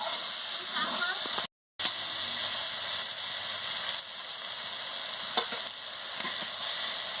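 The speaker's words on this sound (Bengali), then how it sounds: "খুলে নিয়ে ভালো করে নাড়িয়ে নিচ্ছি" Onion-stalk curry frying in a pan as it is stirred, with continuous close sizzling and occasional scraping strokes, interrupted by a brief gap early on.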